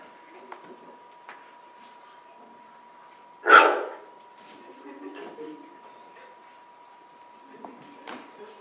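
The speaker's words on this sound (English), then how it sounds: "So this is one of the main dogs I worked with." A dog gives a single sharp bark, close and loud, against a quiet background with a faint steady hum and a few soft knocks and clicks.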